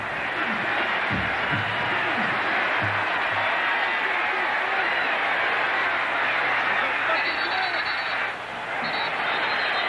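Roaring stadium crowd at the 1991 Tennessee vs Florida college football game, a dense, continuous wall of loud cheering noise that holds steady throughout, with a broadcast voice faintly under it.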